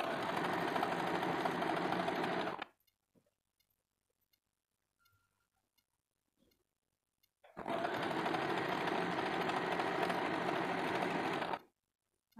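A sewing machine stitching a double katori blouse runs in two loud, steady bursts of rapid mechanical whirring, each a few seconds long, separated by a quiet pause.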